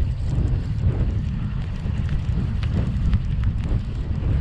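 Steady wind buffeting the microphone while carp fishing in mid-October, a continuous low rumble with gusty roar and faint clicks throughout, no voices.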